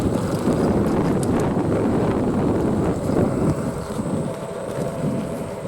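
Electric commuter scooter ridden in fast mode outdoors, strong wind rushing loudly over the microphone in a continuous roar that eases slightly toward the end.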